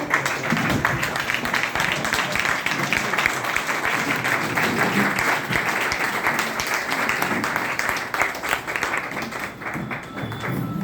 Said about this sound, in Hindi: मैं चाहूंगी मेरे साथ चलिए खड़े होकर जबरदस्त तालियां होनी चाहिए।